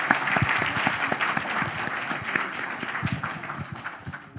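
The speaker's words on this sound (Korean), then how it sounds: "뜨거운 박수를 부탁드립니다" A church congregation listening to a short-term mission trip report breaks into warm applause, many hands clapping steadily and close, gradually easing off toward the end.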